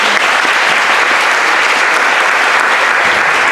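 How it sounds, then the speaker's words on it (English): Audience applause at a school meeting, a dense steady wash of many hands clapping that fills the whole stretch at full loudness, with no voices rising above it. "let's give Miss Joy a round of applause"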